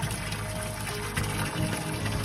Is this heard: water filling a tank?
yes